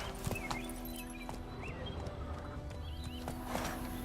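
Geralt's horse Roach in The Witcher 3 video game, rhythmic hoof clip-clops at a trot with a brief whinny, close and clear against light background sound.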